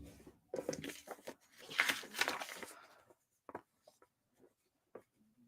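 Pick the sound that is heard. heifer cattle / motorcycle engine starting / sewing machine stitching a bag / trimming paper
trimming paper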